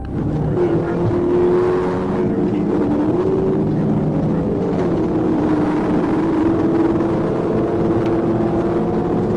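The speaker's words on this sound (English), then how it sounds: "3 muscle cars, 2 Challengers and a Mustang, street racing down the highway" Three muscle cars, two Dodge Challengers and a Mustang, street racing on a highway, making a steady, loud engine roar with drifting pitch that holds unbroken throughout.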